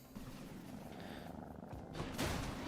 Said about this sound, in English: they meow and they purr